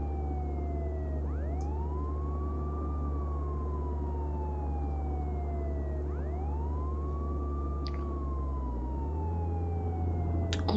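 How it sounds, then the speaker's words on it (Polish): Police vehicle siren in the video game Contraband Police, wailing up and down in repeated sweeping cycles over a low engine rumble, steady and fairly quiet throughout. "Włączmy te syreny."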